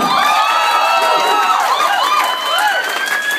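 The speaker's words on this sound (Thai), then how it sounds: "ขอเสียงปรบมือหน่อยแล้วครับ" An audience claps and cheers at an award presentation, a busy crowd roar with whoops and shouts rising over continuous applause, while someone talks loudly through a microphone on top.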